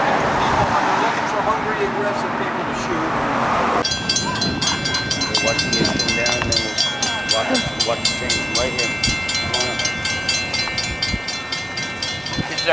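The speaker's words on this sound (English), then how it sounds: "You'll have the probably 3:30 Metrolink going through right now." A Metrolink commuter train rolls through Chatsworth train station in California, a steady loud rumble with rhythmic wheel clatter and a high rail whine that carries on throughout under constant background noise.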